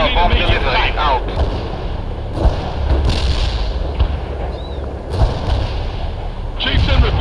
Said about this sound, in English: Coordinates hit by our mortar barrage